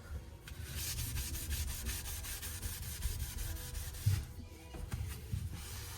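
Steady rough scrubbing as the coarse side of a sponge works over a window frame in a garden house under construction, a continuous close rasping stroke with brief pauses and no voices.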